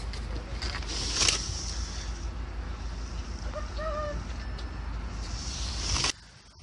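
Electric tailgate on a Skoda Karoq 1.5 TSI SUV whirring steadily as it moves, with a faint creaking mechanism, a couple of short clicks and a brief motor tone partway through, ending in a stop.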